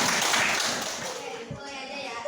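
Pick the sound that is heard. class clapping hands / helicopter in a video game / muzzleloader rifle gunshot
class clapping hands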